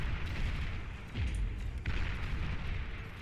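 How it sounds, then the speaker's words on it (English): Atomic bombers dropping bombs in the strategy game Beyond All Reason, heard as a dense, continuous low rumble of overlapping blasts with a couple of heavier booms, sustained throughout without a break. "More atomic bombers come in and drop the bombs."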